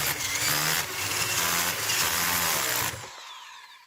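A power drill whirs loudly and steadily at close range while its chuck is unscrewed, the motor note wavering slightly before cutting off abruptly near the end.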